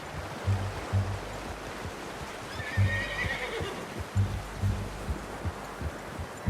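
A horse whinnies once in Red Dead Redemption 2, a high wavering call in the middle, over steady background ambience with soft thumping below.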